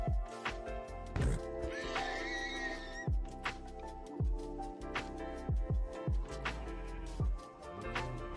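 A horse in a modded Minecraft game neighs loudly and repeatedly, whinnies mixed with hoof clip-clops and other game sounds, close and prominent.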